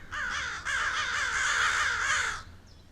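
Crows caw several times in quick succession as a radio drama sound effect, harsh rasping calls in close, loud bursts with a short gap after the first, then silence.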